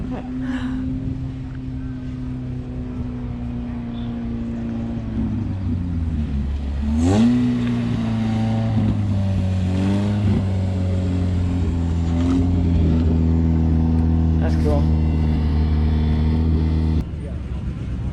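A 1966 MG Midget "Spriget" race car engine revs loudly and continuously at the Gilmore Car Museum, its pitch dipping then climbing and holding a steady drone, with people talking faintly in the background.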